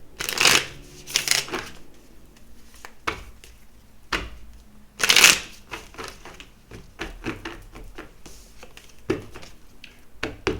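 Oracle cards are shuffled by hand in bursts of crisp riffling and flicking, with two loud riffles near the start and another midway, between softer taps and rustles as the deck is handled.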